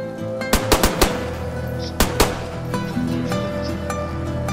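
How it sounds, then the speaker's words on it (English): Gunfire in the video game DayZ: a rapid burst of four sharp shots, then two more cracks a second later, loud and close over a low background hum, with no speech. "but I just shot him"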